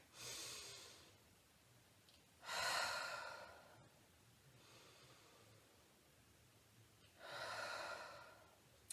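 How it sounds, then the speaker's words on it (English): Slow deep breathing during a Lazy 8 breathing exercise, three long audible breaths separated by quiet pauses, close and soft with no talk. "you trace your finger around the shape of the 8 where you take deep breaths"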